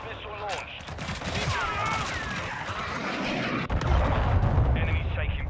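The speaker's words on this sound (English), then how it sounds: "Hostile cruise missile launched." Cruise missile strike in Call of Duty Modern Warfare 2 (2022): a dense barrage of booming explosions and gunfire that swells into a heavier, rumbling blast midway, with voices talking over it.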